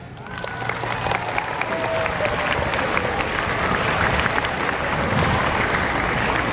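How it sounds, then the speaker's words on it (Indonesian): Audience of teachers and students applauding at a police program outreach event in Brebes, a steady dense wash of clapping throughout, with a few voices and faint whistle-like tones mixed in. "Ya, tepuk tangan semuanya."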